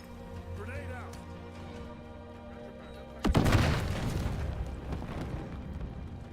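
A grenade explodes in the Modern Warfare 4 closed beta, a sudden loud boom that rumbles and crackles for several seconds after steady game noise and a brief earlier tone.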